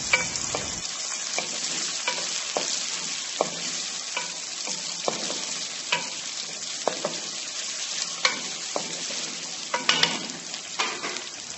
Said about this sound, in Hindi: अब प्याज को हम फ्राई कर लेंगे।